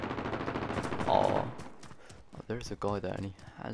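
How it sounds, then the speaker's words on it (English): Automatic weapon fire, an MP7 in Call of Duty Warzone, crackles in a dense burst over the first second and a half, with someone talking over and after it. "a decent weapon by the sound of it. I think it's like an MP7."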